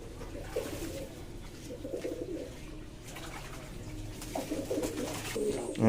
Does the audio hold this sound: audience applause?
no